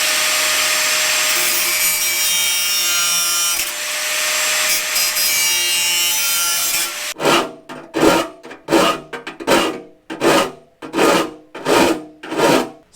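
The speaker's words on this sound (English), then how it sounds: "I'm gonna smooth it out with the file here in a minute" A file smoothing the cut hole edges of a metal ammo can for a wood stove: a long, harsh, steady abrasive noise, then about nine loud, rhythmic rasping strokes, close and with no talking.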